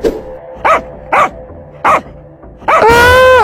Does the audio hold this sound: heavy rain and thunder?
no